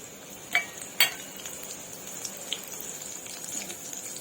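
Cumin, mustard seeds and finely chopped green chilies hit hot oil for a ragi millet chivda, giving a soft, steady sizzle with a couple of sharp pops early on; no one speaks.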